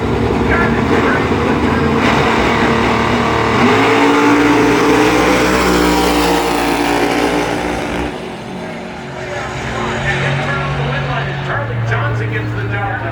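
Charlie Johnson's big Chevy Nova drag race car on nitrous roars loud and close at Bradenton Motorsports Park, a sustained high-revving engine howl that shifts pitch partway through, with a commentator talking over it.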